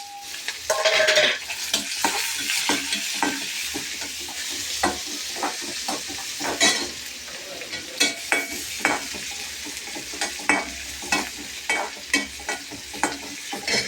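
Cumin seeds sizzle and fry in hot oil in a pan while cooking beetroot poriyal, a steady crackling hiss broken by repeated scraping stirs of a utensil against the pan, close and clear.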